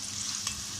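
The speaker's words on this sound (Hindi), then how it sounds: "अब इसमें हमने प्याज डाल दी। प्याज को हम इसको फ्राई करेंगे।" Chopped onions fry in hot oil for a potato karahi, giving a brief, even, continuous sizzling hiss close by with one small pop and no voices.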